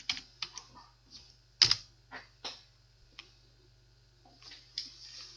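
Typing on a computer keyboard for a search in a browser on Windows 10, with close, soft irregular key clicks arriving in short bursts and a faint steady hum underneath.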